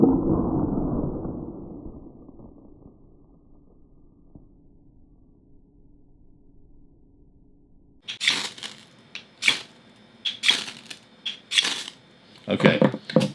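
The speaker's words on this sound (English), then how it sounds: "let's just see how well it makes some sparks" A folding knife's spine scraped against a ferro rod to throw sparks indoors, with a few sharp rasping strikes in quick bursts after a quiet stretch and a fading rumble at the start.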